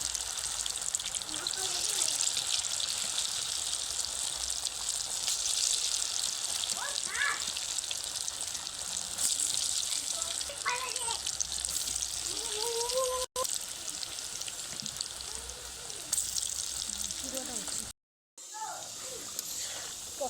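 Pakoras fry in hot oil with a steady, dense crackling sizzle that runs throughout, broken by a brief cut near the end, while a person speaks quietly now and then.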